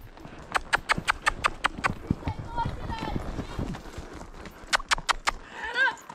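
Horse hooves clip-clop in a quick, regular run of sharp, close strikes, fading out midway before a second burst returns near the end, with people talking over and between the hoofbeats outdoors near a dirt road.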